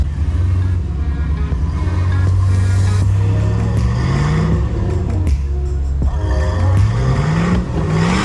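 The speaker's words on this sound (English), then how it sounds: "Let's just take another moment to enjoy this V8 as Tyrone tries to climb up this hill in 3-wheel drive" A Jeep's V8 engine roars loud and close as it climbs a snowy trail hill in 3-wheel drive, revving up and down repeatedly with rising pitch sweeps under strain.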